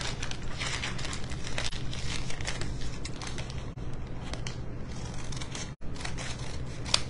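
Scissors cutting the bottom off a paper bag for a wreath, a continuous close crinkle and rustle of paper with soft snipping, steady throughout with a brief pause near the end.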